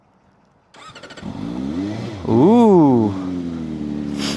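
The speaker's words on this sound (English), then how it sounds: "It's time for us to start the freaking bike." A CFMOTO 750SR-S motorcycle engine cranks with a rapid stutter, catches and fires up, then revs sharply once before settling into a steady idle. Close and loud, with a brief exclamation from a voice at the start.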